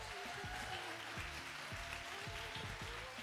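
Crowd applause at a poetry slam, a dense, even spread of clapping hands heard at low level throughout, with faint voices mixed in underneath.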